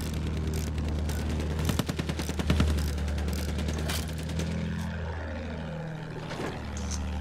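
Rapid gunfire rattles against a player's plane in a war video game, dense bursts over a loud droning aircraft engine, fading toward the end as the engine pitch shifts.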